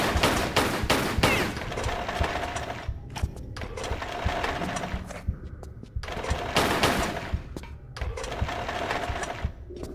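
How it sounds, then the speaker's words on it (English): Dual pistols firing in the Tomb Raider I-III Remastered video game, rapid bursts of sharp shots clustered in the first seconds and again later over continuous game music and ambience, no talking. "we haven't actually used our dual pistols since we got them back."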